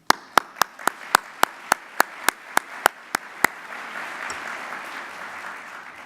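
About a dozen sharp, evenly spaced claps ring out over a murmuring crowd at a business association's annual meeting, then fade into a soft ambient hum.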